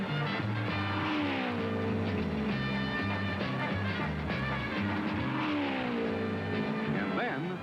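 Race cars at the 1972 Indy 500 blend into a continuous, loud engine roar. Pitch sweeps rise and fall as cars pass, with a race commentator talking over the noise throughout.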